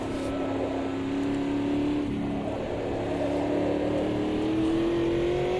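A Stock Car 2024 racer in Automobilista 2 holds a steady, droning engine note that climbs slowly in pitch under careful throttle, continuous and close with no talking.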